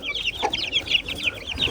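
A hen clucking repeatedly nearby, short choppy calls in a quick, uneven rhythm.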